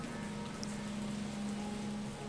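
Heavy rain pours down on an outdoor grave site, a soft, even wash of drops with a faint low hum beneath it, constant from start to finish.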